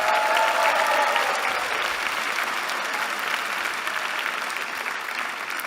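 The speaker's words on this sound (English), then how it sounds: "Can we have a round of applause for all the friends and family who are here today or watching online?" A commencement audience of graduates' friends and family applauds at a university ceremony, a dense, sustained wash of clapping from a large crowd that holds steady and slowly eases off.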